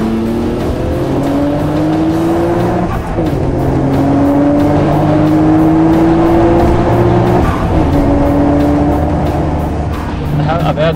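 A Nissan R35 GT-R, the 2008 model, accelerates hard with a loud, close engine note that climbs in pitch through successive gears with short breaks at the shifts, under continuous talking.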